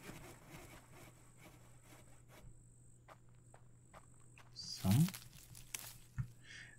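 Sawing in the video game Infected comes through as faint, repeated rasping strokes with a steady background hum and a louder scrape near the end, distant and quiet.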